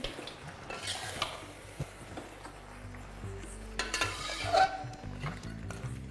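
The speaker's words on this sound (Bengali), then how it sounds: "এবার আদা কাঁচা গন্ধটা যতক্ষণ না যাচ্ছে ততক্ষণ এটাকে ভালোভাবে মেশাতে থাকুন।" Mutton mixed with ginger paste is stirred in a pan, with a spoon scraping and knocking against the metal in irregular strokes over a faint low sizzle, and no one speaking.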